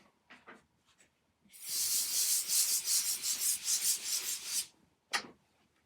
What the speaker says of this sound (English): what I'm going to do is rub this out